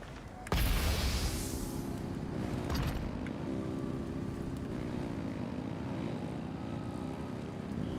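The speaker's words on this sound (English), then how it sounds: "Rev the engines!" Engines rev up in Genshin Impact's Natlan region, a sudden loud roar that kicks in after a brief quiet moment and then holds as a steady, droning propeller-like hum. A bright burst rings out at the onset.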